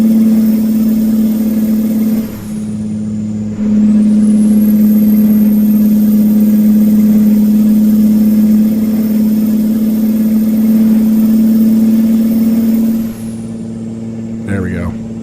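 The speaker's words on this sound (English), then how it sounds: "Man, that engine drone" A Kenworth T100 truck engine in American Truck Simulator drones loudly and continuously, with a brief dip in pitch partway through as if shifting gears.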